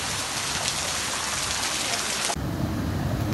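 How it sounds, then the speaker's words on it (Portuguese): Heavy rain in the backlands of northeastern Brazil, a dense, steady broadband roar of downpour that runs loud and unbroken, with a sudden shift in tone partway through, and no voices. "da Boa Vista aqui a chuva, tá vendo?"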